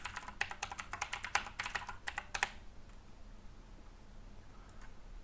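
A computer keyboard rattles with a quick run of close, crisp keystrokes for about two and a half seconds as a password goes in, then falls quiet apart from a couple of stray taps.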